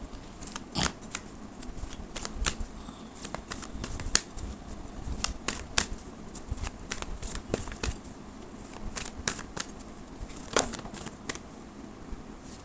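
Angel cards are shuffled by hand in quick, uneven bursts of crisp flicking and snapping, quiet and close, with short pauses between runs.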